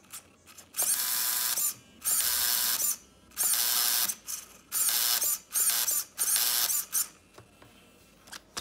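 A Traxxas E-Revo 1/16 scale RC car with a stripped 2080 servo gear gives about seven loud, harsh ratcheting bursts, each roughly half a second to a second long, separated by short quiet gaps.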